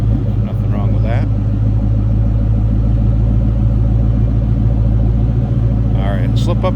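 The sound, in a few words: 2003 Ford Mustang SVT Cobra throaty exhaust running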